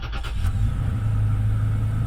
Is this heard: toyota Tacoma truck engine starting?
yes